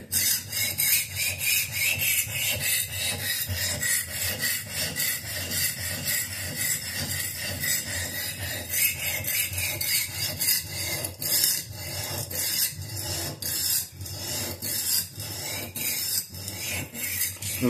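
An S390 steel knife hardened to 67 HRC is drawn again and again across a sharpening stone, giving close, steady rasping strokes in a fast, even rhythm that run unbroken with no speech.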